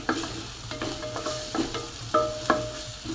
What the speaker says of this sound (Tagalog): Kaya ilagay ang garlic. Halo-haloin lang natin.